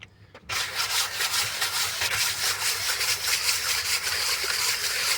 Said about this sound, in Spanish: solamente una limpieza poquita nomás así con una lija, con una 220